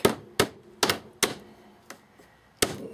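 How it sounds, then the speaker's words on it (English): A hammer strikes over a nail in a yard or rafter build, about six sharp, loud, close blows at an uneven pace, with short pauses between them and no talking. "I just hammer over the nail that way to hold it in"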